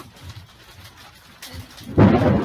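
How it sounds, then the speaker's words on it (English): Thunder from a building storm outdoors, a low distant rumble early on that swells into a loud, broad roll near the end, with rain-like noise underneath. "you're gonna have a good storm, Bobby"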